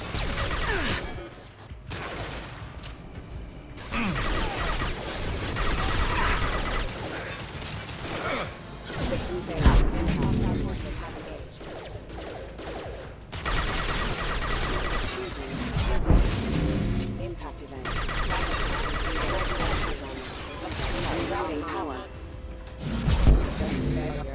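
Gunfire and explosions in the video game Mass Effect 2, dense bursts of rapid shots, heavy booms and impacts in loud clustered waves with brief lulls between, sometimes with voices in the mix.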